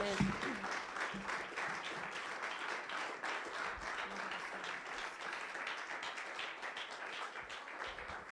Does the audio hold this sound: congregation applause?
yes